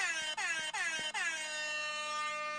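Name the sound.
air horn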